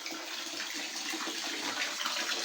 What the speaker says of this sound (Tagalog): Patayin ko lang muna yung tubig sa CR